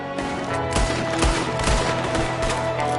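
Gunfire from a window in the Red Dead Redemption 2 video game comes as several heavy, booming shots roughly half a second apart, layered over a dense backdrop of music and ambience.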